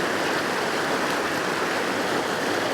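Waterfalls on the Lurg Burn, a constant, even rush of falling water, moderately loud and unbroken, with no voices.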